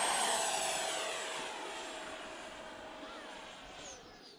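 An EDF model jet painted as a Red Arrows Hawk flies in to land, its ducted-fan whine loud at first and then steadily fading as it passes and moves away.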